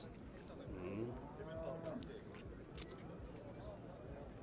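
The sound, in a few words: cattle mooing at a livestock exhibition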